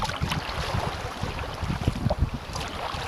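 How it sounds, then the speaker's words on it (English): Kayak paddling on a swelling sea near Brooklyn, with rhythmic splashes of the paddle and water washing against the hull under steady wind noise, close by and with no talking. "We're paddling up to the wreck of HMAS Parramatta."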